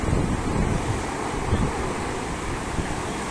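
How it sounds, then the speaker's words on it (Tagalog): Large sea waves roll and break in a bay, a continuous heavy roar of surf with strong wind buffeting the microphone throughout, no speech. "Lumaki na yung dagat. Lumaki na yung alon."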